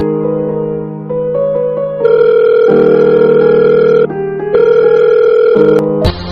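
A phone call being placed at home, with steady electronic tones and ringtone-like melodic phrases that shift in pitch and fill the space loudly, ending in a brief click.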